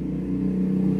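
A miniature Dongfeng-style single-cylinder Chinese diesel engine generator set, powering lamps, runs with a steady, close, low droning hum and no pauses.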